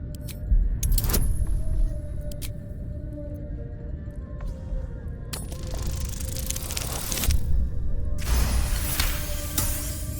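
A Steel Watcher construct in Baldur's Gate 3 gives off a continuous mechanical whir over a low rumble, with metallic clanks and jangles rising in two louder surges, no speech.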